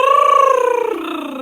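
During a group singing warm-up, a voice rolls an R in a loud, buzzing trill that imitates a purring cat, held steadily for about a second and a half and falling slightly in pitch near the end.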